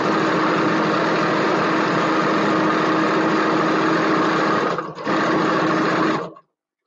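A sewing machine runs steadily and loud with a close, whirring mechanical hum, pauses for an instant, picks up again and then stops abruptly.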